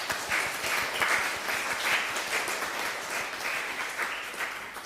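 A church congregation at a Sunday service claps together in sustained, steady applause lasting several seconds, heard alone at moderate volume from within the room.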